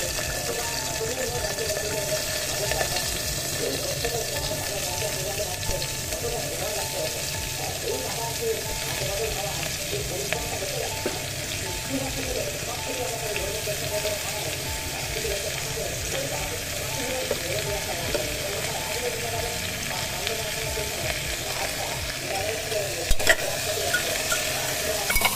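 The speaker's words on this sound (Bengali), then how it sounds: "আমরা সবজিগুলো দিয়ে এই 2 মিনিটের মতো মাত্র নেড়ে চেড়ে নেবো" Vegetables frying in hot mustard oil inside a pressure cooker, a steady, close sizzle running throughout with the soft scrape of stirring, and no talk.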